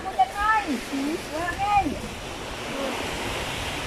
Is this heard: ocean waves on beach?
yes